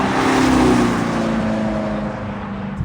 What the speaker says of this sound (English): The more and more I hear them drive by with the Fratzonic exhaust, the more it feels right.